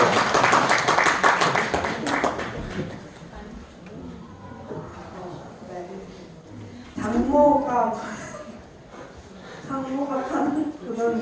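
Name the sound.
audience clapping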